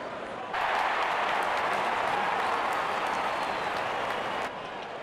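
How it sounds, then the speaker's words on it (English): A cricket stadium crowd at an ILT20 match cheering and clapping as the bowler walks out with the new ball, a broad roar of applause that rises suddenly, holds steady, then cuts back to quieter background. "the crowd cheering in anticipation"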